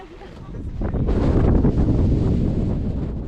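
Strong wind roars and buffets the microphone on the rocky summit of Mount Fuji, building into a loud, steady rush after a quieter start.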